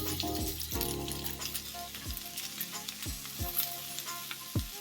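Onions sizzle and crackle steadily in a hot pan while cooking for a steak sandwich. The frying is a constant hiss broken by soft clinks and stirring scrapes, with no talking.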